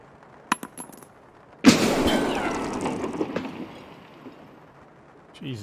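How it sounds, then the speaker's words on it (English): A grenade goes off in Escape from Tarkov indoors, a sudden loud blast with a long rumbling decay, preceded by a few faint clicks and light knocks, with a voice only near the end. "Jesus, that exploded fast."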